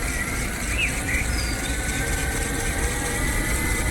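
An Evolve GTR belt-driven electric skateboard ridden off-road with a dirty drive gives a steady, loud, gritty grinding whir with scratchy high squeals, continuous throughout with no talking.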